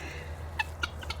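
Pearl guinea fowl calling in a backyard flock: three or four short, sharp, high chirping calls in quick succession over a low background hum, fairly faint.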